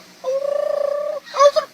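A man imitating domestic turkeys gobbling with his mouth: a rapid warbling trill of about a second, then a short squawking burst, fairly quiet and close.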